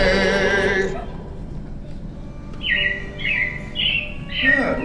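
Animatronic robins chirp in short, bright bursts at the Carousel of Progress attraction, following a fading sung tune, with several quick tweets repeating close together.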